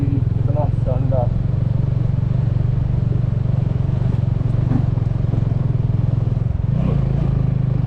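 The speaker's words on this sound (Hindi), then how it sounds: "बाइक का इंजन बहुत तेज़ी से गर्म हो रहा है।" Motorcycle engine labouring under heavy load on a mountain road past waterfalls, a steady loud drone with rattling clatter throughout, while people talk briefly over it.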